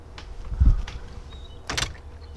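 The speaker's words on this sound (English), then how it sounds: "Oh, I'm gonna close the door." A door is closed on the way outside, with a dull thump followed by a brief rattling latch sound, close and moderately loud against quiet outdoor ambience.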